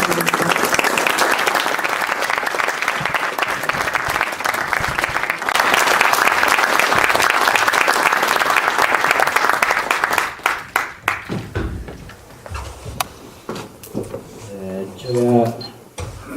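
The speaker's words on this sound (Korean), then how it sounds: "박수 부탁드립니다." Audience applause welcoming a priest onto the stage at a lecture in Jeongeup, South Korea, loud dense clapping for about ten seconds that thins into scattered claps and fades, with a few words spoken near the end.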